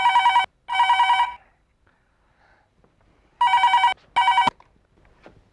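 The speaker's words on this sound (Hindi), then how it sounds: "कहीं फोन बज रहा है," A telephone rings in two pairs of trilling bursts separated by a short silence, clear and close.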